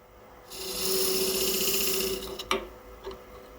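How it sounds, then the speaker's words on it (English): A steel blade held as a negative-rake scraper drags across a maple wood kuksa in one sustained, close rasping stroke, ending with a few short scrapes. "Now here, I'm just using it like a negative rake scraper."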